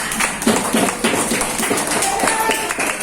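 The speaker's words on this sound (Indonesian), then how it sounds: "Oke, tepuk tangan." A class of students claps together in an Indonesian school lesson, a short burst of clapping with a teacher's voice over it.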